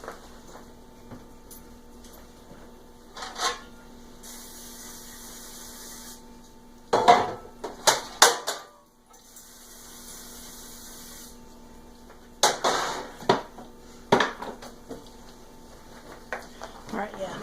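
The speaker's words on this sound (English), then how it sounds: "I take the bench knife and divide this bad boy up" A bench knife chops through bread dough on a work surface, producing clusters of crisp knocks and scrapes in two bursts separated by quiet stretches, close to the microphone.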